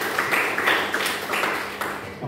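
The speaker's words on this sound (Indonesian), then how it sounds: "Luar biasa, tepuk tangan untuk semuanya ya." Students in an accounting class applaud, a steady patter of many hands clapping at moderate volume in a room, slightly uneven and continuous, with no voices standing out.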